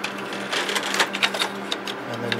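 A memory board pushed back into its socket in an IBM x3850m2 server, then its small levers locked down, giving a quick series of close, sharp plastic-and-metal clicks and ticks over about two seconds, with no talk.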